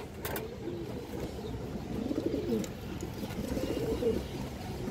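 Pigeons coo softly in low repeated phrases among caged khaki and other domestic breeds, with faint street and car noise behind and no clear talk.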